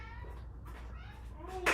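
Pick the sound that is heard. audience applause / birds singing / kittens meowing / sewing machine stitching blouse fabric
kittens meowing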